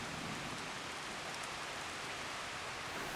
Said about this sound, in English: Catched in the rain, Beatty.